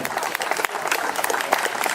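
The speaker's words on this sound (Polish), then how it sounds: "Wielkie brawa!" Audience at an outdoor tourist-song festival award ceremony on a riverside campsite clapping for a winning band, brisk continuous applause at a steady, moderately loud level.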